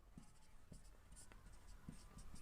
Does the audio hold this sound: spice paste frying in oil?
no